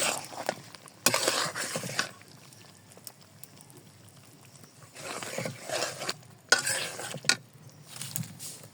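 Raw mango pieces are stirred into a cooked spice paste of ginger and green chilli for a sweet-sour-spicy pickle. The stirring comes in a few close, scraping bursts with quieter pauses between them.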